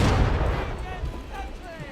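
A cannon booms in the Napoleonic-era naval battle game Holdfast: Nations At War, one heavy close blast at the start with a rumbling tail that fades over the next two seconds.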